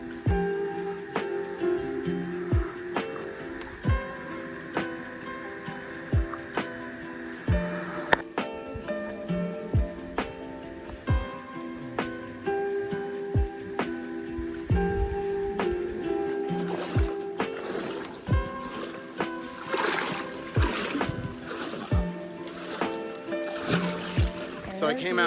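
A person wades and swims into a rocky canyon pool in Oman, with repeated splashes and sloshing water close by. The strokes become busier toward the end, and a voice talks at times.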